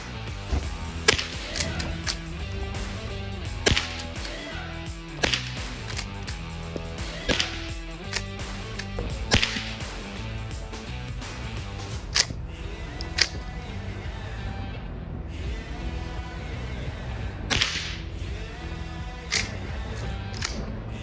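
Sharp, loud cracks from a pump-action gallery gun firing in a steady series of separate shots spaced a second or two apart, each followed by the clack of the pump cycling, over faint background music.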